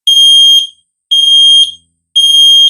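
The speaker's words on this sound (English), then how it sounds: "So the first method is just by pressing the center surface of the alarm itself." A ZEN smoke alarm in test mode shrieks three loud, piercing beeps of about half a second each, evenly spaced roughly a second apart, with nothing else audible.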